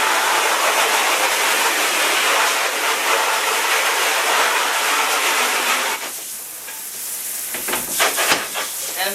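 A steady loud hiss of a water spray rinsing a screen printing screen and its frame, cutting off partway and giving way to softer splashes and dripping.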